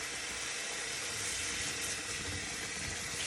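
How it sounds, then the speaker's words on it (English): Cold tap water running steadily over fruits and vegetables being rinsed in a kitchen sink, a dense continuous hiss and splash held at an even level throughout. "So what I usually do is just keep rinsing it until I don't see any soap anymore"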